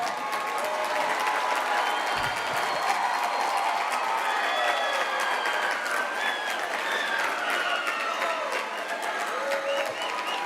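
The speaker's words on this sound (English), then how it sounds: "give them a big round of applause" A high school graduation crowd applauds their parents and guardians, a dense, continuous roar of clapping from a large audience filling the hall, loud and sustained throughout, with a few faint shouts mixed in.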